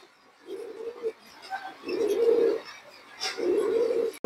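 A pigeon coos three times in clear, close, low rolling bursts separated by short pauses, standing out against a quiet background.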